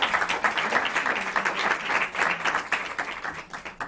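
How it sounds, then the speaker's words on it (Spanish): Audience applause welcoming three guests to a panel talk on sexual wellbeing, a steady moderate clapping from a seated crowd with a slightly pulsing rhythm, heard alone. "Bienvenidas a las tres, un fuerte aplauso"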